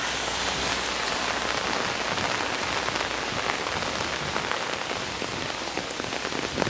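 Heavy, nonstop rain pours down during a storm in Paris, a dense, steady hiss of drops pattering on surfaces close by, with no voices over it.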